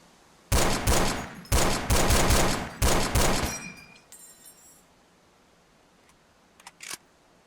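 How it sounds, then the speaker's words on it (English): An M1 Garand semi-automatic rifle in Forgotten Hope 2 fires four loud, evenly spaced shots, each echoing briefly, then the metallic ping of the ejected clip rings out, followed by faint mechanical clicks and handling sounds. "This is the most famous semi-automatic which is in Forgotten 2, the M1 Garand, and here is how it fires."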